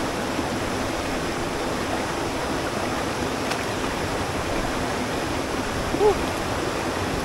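Steady, unbroken roar of Kamay Falls, rushing water filling the air at an even level.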